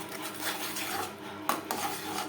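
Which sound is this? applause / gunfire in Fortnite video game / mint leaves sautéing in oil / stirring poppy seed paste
stirring poppy seed paste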